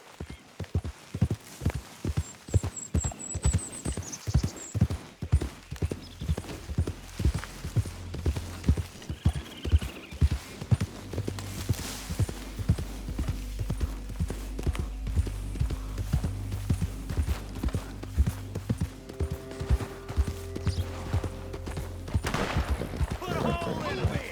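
Steady horse hooves clip-clopping at a trot in Red Dead Redemption 2, with gunshot-like bangs and low rumbling music running underneath.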